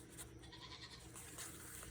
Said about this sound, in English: You could probably hear my goat.